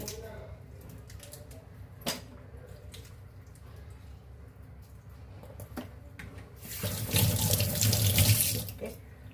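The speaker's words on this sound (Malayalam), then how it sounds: "എല്ലാം കഴുകി വൃത്തിയാക്കണം പൈപ്പിൻ്റെ അടുത്ത് വെച്ച് ബ്രഷ് വെച്ച് എല്ലാം ആക്കിയിട്ടുണ്ട്" Running water from a tap over a sink while crabs are scrubbed with a brush, a steady splash that swells loud and broad near the end, with faint scrapes and knocks earlier.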